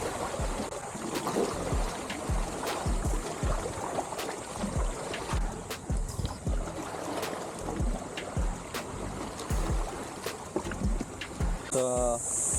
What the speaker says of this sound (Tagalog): bali malakas ang alon